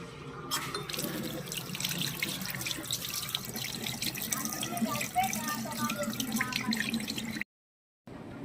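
Hands get washed under a running kitchen tap to rinse off lemon-juice mehndi, making steady splashing water with drips and small hand movements, close by, before a brief cut to silence near the end.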